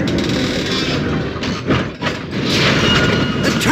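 A locomotive in The Polar Express video game slows down, with a steady, loud rumble of running gear and rail noise, a brief hissing surge partway through, and no talk.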